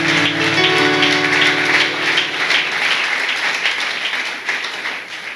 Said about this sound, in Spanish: Si va a aplaudir, aplaude al Rey de Reyes